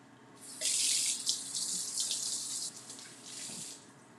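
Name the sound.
washing hands under running tap water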